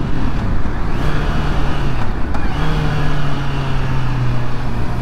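Engine note of a Honda motorcycle with E-Clutch changing down through the gears, a loud, steady drone whose pitch drops and resettles after brief breaks near the one- and two-second marks, with wind rush and no talking.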